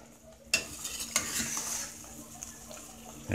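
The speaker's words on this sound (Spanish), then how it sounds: "Movemos para que se compenetre bien" A utensil stirs chicken pieces in poblano cream sauce in a pan, close up. Scrapes and light clinks against the pan sit over a soft sizzle, with no talking.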